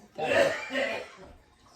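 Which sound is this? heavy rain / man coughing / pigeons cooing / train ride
man coughing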